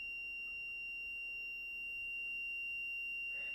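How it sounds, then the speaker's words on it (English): An electronic buzzer on an eye-controlled assistive device, set off by rapid eye blinks, gives a sustained thin high-pitched tone that holds steady throughout with no voices. "we hear the buzzer."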